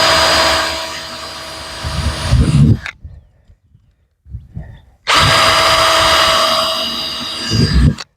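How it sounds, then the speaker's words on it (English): A power drill bores holes in an RV motorhome roof to mount solar panels, two loud sustained whining bursts separated by a short pause with a brief quieter spin-up between. "Now we're going to drill the holes."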